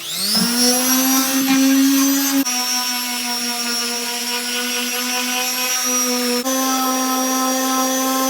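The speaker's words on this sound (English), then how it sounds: "That's all the sanding done with it" A power sander whirs loudly at close range on a wooden dolls house, spinning up then running steadily, briefly bumping or catching twice, with no speech.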